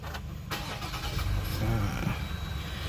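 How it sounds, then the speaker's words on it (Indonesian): A 2020 Jeep Gladiator 3.6 V6 Rubicon push-button start: the starter cranks briefly, then the engine catches and settles into a steady idle nearby, with someone speaking softly over it. "tekan start engine button yang sebelah kiri sini untuk menyalakan mesin"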